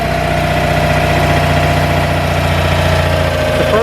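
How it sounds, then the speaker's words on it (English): A Citroen 2CV's 12 horsepower air-cooled boxer twin engine idles with a smooth, steady, even thrum, loud and close, running continuously with no voices. "Here's some 12 horsepower engines fired into life."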